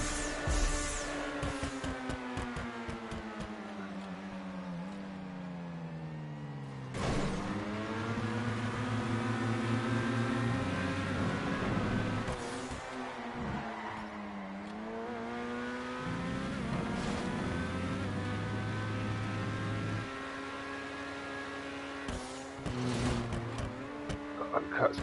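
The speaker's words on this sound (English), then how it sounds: "you can hear Azzy's engine behind him" A car engine in a stunt racing video game revs and whines through sweeping rises and falls in pitch, gear shifts and throttle lifts audible, with a commentator talking over it.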